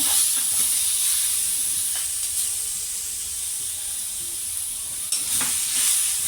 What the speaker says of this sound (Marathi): हे आपण छान असं परतलेलं आहे तुपामध्ये